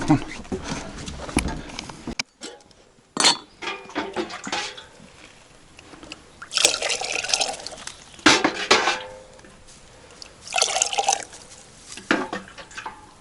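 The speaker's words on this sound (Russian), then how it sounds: "Сейчас добавлю воды еще. Пусть чайник полным будет." Water is poured into a kettle at a taiga field kitchen. Splashing, gurgling pours come in uneven bursts, mixed with close clinks of metal cookware.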